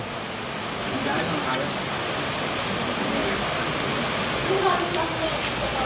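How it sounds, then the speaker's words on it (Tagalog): Steady rain pours outside during a home meal of mung bean stew, making a dense, even hiss that stays moderately loud for the whole stretch with no clear breaks. "Tapos umuulan."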